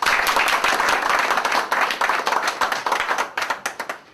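A crowd claps loudly and steadily throughout a Pakistan Peoples Party political speech, a dense applause that tapers into separate claps near the end.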